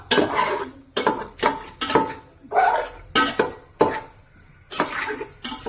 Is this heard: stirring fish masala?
yes